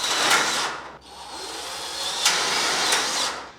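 A power drill drives screws into a gypsum board ceiling's metal profile, a close whirring burst, a short pause, then another sustained run with brief peaks as the screw seats.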